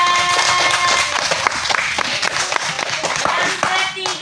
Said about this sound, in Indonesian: tepuk tangan untuk Kanja.